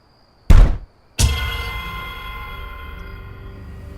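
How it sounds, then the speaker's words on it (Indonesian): Two heavy thuds strike a house's front door, one short bang followed by a louder blow that rings and decays, close and alone in a quiet night room. "Suara benturan terdengar di pintu depan sebuah rumah."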